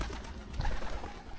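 A pigeon coos softly beside a canal path in Fushimi, Kyoto, a low murmuring call set against steady outdoor background noise, with no talking.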